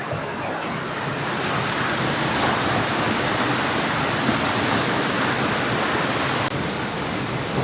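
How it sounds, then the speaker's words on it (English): Root Beer Falls, a waterfall in Michigan's Upper Peninsula, gives a loud steady rushing roar of falling water, broadband and unbroken throughout, with no voices. "Root Beer Falls."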